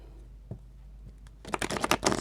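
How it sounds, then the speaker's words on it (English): Tarot cards are shuffled by hand in a brief burst of quick, papery riffling flutters near the end, following a few soft taps in a quiet room. "Let's get these cards a little bit shuffled."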